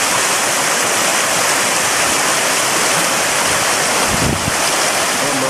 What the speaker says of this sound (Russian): Ручей идет по камням вот таким.